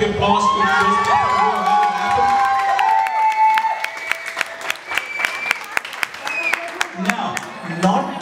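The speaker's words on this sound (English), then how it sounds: "Can everybody join and give us a big applause for this?" Audience at a thank-you event bursts into applause and cheering, with whoops and shrill shouts over a voice early on, then sharp clapping continues loudly as the cheers fade.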